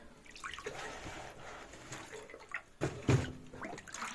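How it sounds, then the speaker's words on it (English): A wheel of a VXwheel 4 electric unicycle being dipped into water for a waterproofing test, with close sloshing and trickling, then a sharper splash and gurgle near the end, no talking. "we're gonna press it into the water"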